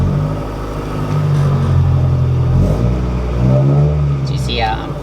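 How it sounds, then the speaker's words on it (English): Honda Civic EM1 Si engine revving up and down in two broad surges, close and fairly loud, with a steady low idle rumble beneath and a person talking over it. "you see how I'm revving it up, but the RPMs are not going up"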